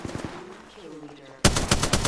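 Rapid automatic gunfire in the shooter game Apex Legends bursts in suddenly and loudly after a quieter stretch of game sounds, a close, fast rattle of shots carrying through to the end.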